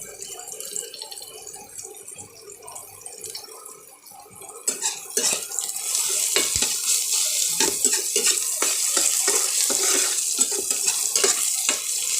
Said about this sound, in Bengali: এদিকে ভাজা ভাজা করে নিই, তারপরে আলুটাকে দিয়ে